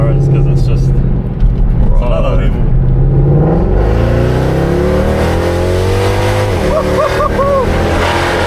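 A Mercedes C63 AMG with long tube headers, a custom exhaust and a pop-and-bang tune revs loudly up close, deep rumbling and rising, with people talking over it.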